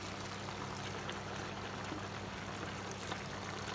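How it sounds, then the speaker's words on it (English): Water pours steadily into a pot of Ogbono soup with okro, a continuous close splashing stream with a low background hum and no talk over it. "I'm going to add water."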